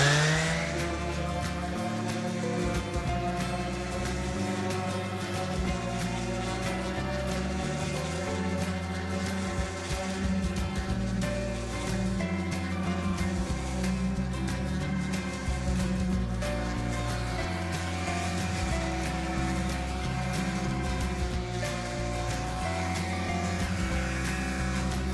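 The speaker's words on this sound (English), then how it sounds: "I'm barely letting the weight of the actual sander do this" A power sander smooths a plywood and fiberglass deck box under very light pressure, producing a steady, continuous motor whine with a buzzing tonal hum that holds evenly throughout.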